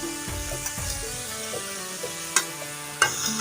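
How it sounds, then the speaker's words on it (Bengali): Leafy greens fry and get stirred in a pan, with a steady soft sizzle under a few sharp clinks and scrapes of the stirring utensil, heard close up with no talking. "এখানে শাকটা ভাজা হচ্ছে"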